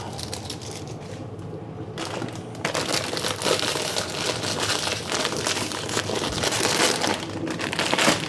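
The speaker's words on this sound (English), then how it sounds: "If I can open the package." Crinkly plastic packaging of a ramen noodle pack crackles and crumples steadily as it is torn open by hand, close up and continuous, with no talking.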